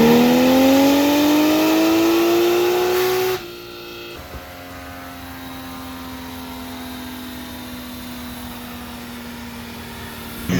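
A car's engine revs on a dyno during a pull of about 680 horsepower, a loud rising whine that climbs for about three seconds before cutting off abruptly. A softer steady engine hum lingers afterward, with no voices.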